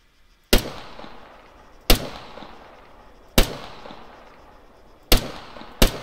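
Gunfire in the Arma 3 video game during a multiplayer PvP event: five sharp, loud single shots at irregular intervals, each ringing out with a short echoing tail.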